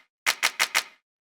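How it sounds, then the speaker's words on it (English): Clap drum sample played four times in quick succession, each a bright, dry crack with a brief tail, evenly spaced and close, with nothing else around it. "We have this clap,"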